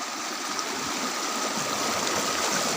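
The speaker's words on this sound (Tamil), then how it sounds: "இங்கே தண்ணி போகிறத பார்த்தீங்கன்னா நீங்களே சொல்லுவீங்க, இவ்வளோ தண்ணி போகுது" A large volume of floodwater rushes past a broken bridge and its sluice vents, a constant, dense roar of flowing water with no voices.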